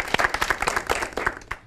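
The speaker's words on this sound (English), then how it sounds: "Big round of applause for Dr. Cynthia." A studio audience at an Indian talk show claps in a quick burst, close and lively uneven clapping that fades out within two seconds.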